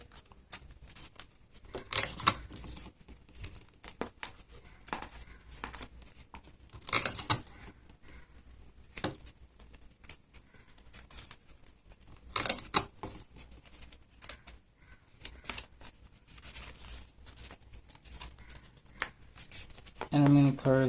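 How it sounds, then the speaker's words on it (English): Black tape is torn and pressed onto a paper craft mask of King Baldwin IV, with sharp ripping bursts at irregular intervals between quieter crinkling and handling sounds, close up. "Just going to add some more tape."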